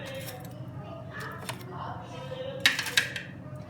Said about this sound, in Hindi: अभी ये गर्म है इसलिए मैं इसको ना ये टोंग की मदद से इनको जो है ना वो सेट कर रही हूँ।